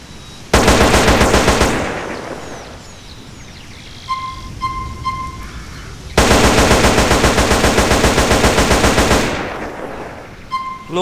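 Rapid automatic gunfire from a modded weapon in GTA San Andreas, two long loud bursts of fast regular shots separated by a pause with a few short electronic beeps, then a brief final flurry.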